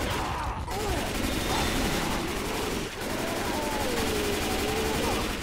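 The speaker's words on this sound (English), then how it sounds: "Everyone, shoot the tank!" Sustained rapid gunfire rattles continuously as survivors shoot the tank in Left 4 Dead 2, a dense loud barrage with almost no break across the whole stretch.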